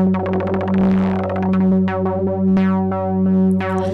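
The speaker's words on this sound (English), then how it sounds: "After the square wave, we have this triple decay sawtooth." Erica Synths DB-01 bassline synth plays a steady buzzing bass tone while a triple decay sawtooth LFO sweeps the filter, giving repeating bright-to-dull decaying swells in a clear rhythm, heard alone.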